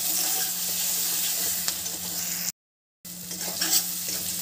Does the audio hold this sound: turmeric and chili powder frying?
yes